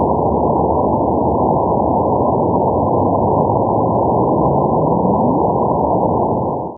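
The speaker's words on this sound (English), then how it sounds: "Now, here's the sound of 2 neutron stars merging." Sonified gravitational-wave signal from two neutron stars merging, a loud continuous rushing hiss lasting several seconds with a faint rising sweep buried inside, ending abruptly, no voices.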